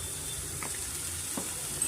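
Boiled rice with onion and turmeric fries in a pan, a soft steady sizzle with a couple of brief stirring scrapes, close and fairly quiet, with no speech.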